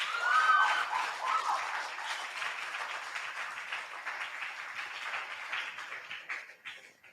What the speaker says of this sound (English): A round of applause for all our contesting schools